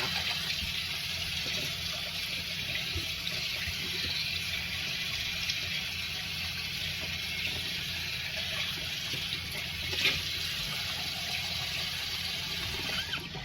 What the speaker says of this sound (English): Let me rinse my face, y'all.